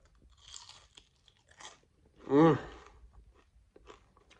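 Cooled, freshly cooked regular bacon is bitten and chewed close up, with a few light crisp crunches leading to one loud snapping crunch, then softer chewing.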